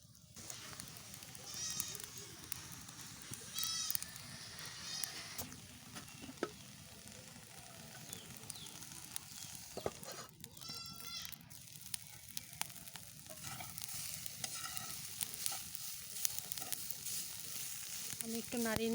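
Coriander leaves, green chilies and bottle gourd peel frying in a pan, a soft, steady sizzle close by with occasional scraping stirs, while bleating goats or sheep call faintly in the background.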